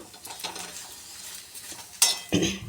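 Okra being dry-roasted without oil on a preheated griddle, stirred with scraping clinks of a metal spatula against the pan, faint sizzling beneath and a couple of louder scrapes near the end.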